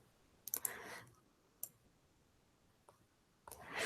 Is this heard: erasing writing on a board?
yes